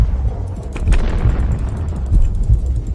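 Gunfire and blasts from the shooter game Max Payne, dense low booming with a sharp report near the middle and rumbling impacts continuing throughout, loud and unbroken.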